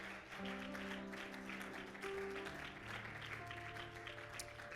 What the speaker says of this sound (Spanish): Let's clap our hands one more time